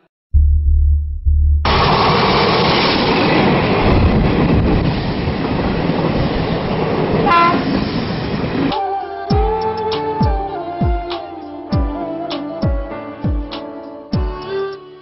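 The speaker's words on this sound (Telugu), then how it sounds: "ట్రైన్ వస్తుంది" A train rolls along the track in a dramatic scene, its rumble loud and sustained, followed by rhythmic clattering of wheels over rail joints with regular metallic clicks toward the end.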